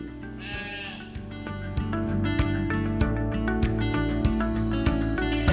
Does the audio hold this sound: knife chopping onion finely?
no